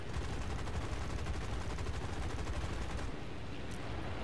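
Aircraft guns in the War Thunder video game fire in one continuous, dense, loud burst of rapid shots that barely lets up before a slight drop near the end.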